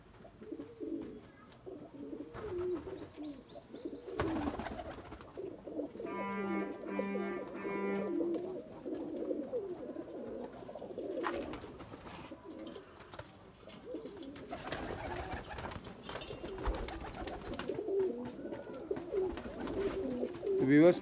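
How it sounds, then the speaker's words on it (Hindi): Pigeons for sale in Jammu, including golden and red-eyed birds, cooing repeatedly in soft low throaty calls close by, with someone talking intermittently and some rustling. "एक से बढ़कर एक कबूतर फ्रेश लॉट"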